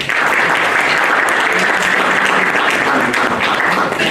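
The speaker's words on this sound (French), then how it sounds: "Applaudissements s'il vous plaît." Steady audience applause at a small arts venue opening, a continuous wash of many hands clapping at moderate volume with no talk over it.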